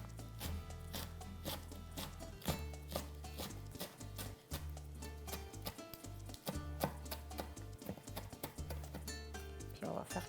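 A knife chops fresh parsley and basil on a board in a home kitchen, giving a quick run of sharp repeated taps under steady background music.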